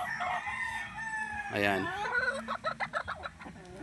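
Breeding hens in a poultry pen at a gamefowl yard, with clucking and a rooster crowing nearby, followed by a run of rhythmic clucks; someone speaks briefly over the birds.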